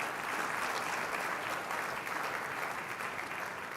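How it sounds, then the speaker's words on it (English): Steady, dense applause from an audience at a wealth-building event, loud and continuous throughout with no voices standing out. "A round of applause."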